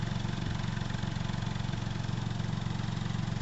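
A steady, low engine idle rumbling from the exhaust of a 2018 Hyundai Kona 1.0 T-GDi, even and continuous with a regular throb, close and fairly loud.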